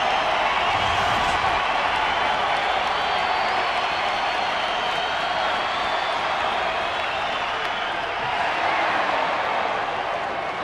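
A big ballpark crowd cheers and applauds in a sustained, even roar after Gary Matthews' deep hit to right center in a 2009 Dodgers at Angels baseball game, holding loud for about ten seconds.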